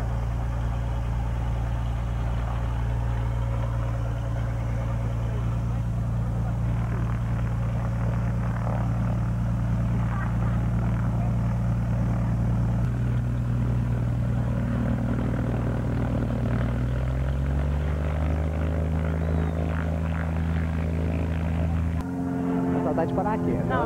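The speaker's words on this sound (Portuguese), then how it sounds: "o avião tá subindo" A propeller airplane climbing, its engine drone steady and loud throughout, rising slightly in pitch toward the end, heard from inside with no clear talk.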